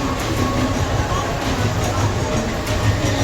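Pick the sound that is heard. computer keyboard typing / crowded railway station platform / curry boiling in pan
crowded railway station platform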